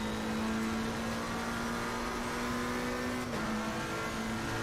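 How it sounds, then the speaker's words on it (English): A GT3 race car engine in Assetto Corsa Competizione at Silverstone drones steadily at a constant pitch with a faint whine and snarl, dipping briefly as it shifts, heard at moderate distance. "I do love the sound of this car in this game. It has a really nice snarl to it."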